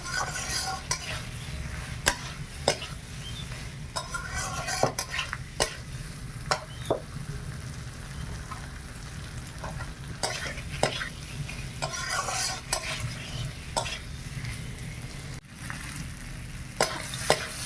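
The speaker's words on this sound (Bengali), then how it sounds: "মশলাটা ভালোভাবে ভাজা হয়ে গেছে এবারে চিংড়া মাছটা আর আলুটা দিয়ে দিলাম" Shrimp and potatoes fry in spiced masala while a utensil scrapes and stirs the pan in repeated strokes, the sizzle steady underneath the close, rhythmic stirring sounds, no one talking.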